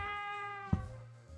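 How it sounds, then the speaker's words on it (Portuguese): Cats meow in a horror hotel video game, a single clear mew standing out against a steady electronic drone and musical tones. "Os gatinhos, ok."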